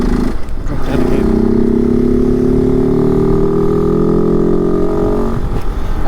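A Kove 450 Rally motorcycle engine pulls up a hill, holding a steady loud drone with rising pitch as revs climb, close and continuous for several seconds without talk.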